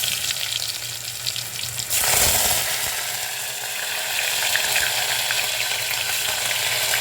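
Spices tempering in hot oil or ghee for little millet pongal sizzle steadily and close, with a sudden louder burst of frying as something drops into the pan, then continued crackling.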